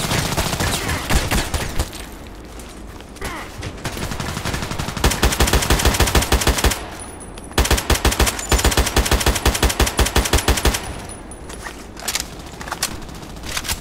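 Rapid automatic fire from an RPK machine gun in the online shooter Contract Wars, loud sustained bursts with short pauses between them, plus distant gunfire and game effects.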